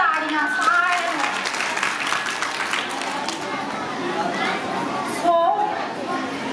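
A crowd at a village Teeyan fair in Rakkran Dhahan claps steadily in applause, mixed with chatter and voices throughout.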